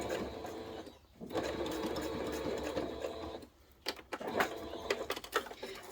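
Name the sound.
sewing machine stitching a fabric notions tray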